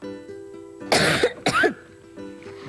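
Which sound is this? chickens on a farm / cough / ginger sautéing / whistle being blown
cough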